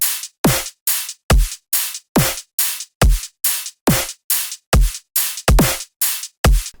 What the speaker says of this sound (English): So let me just play you the exact the solo drums